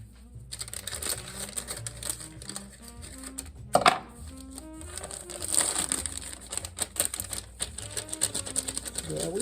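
A Betty Crocker Reese's peanut butter brownie mix package gets cut open at close range: crinkly cardboard and plastic rustling and snipping under a steady background hum, with a sharper crunch partway through.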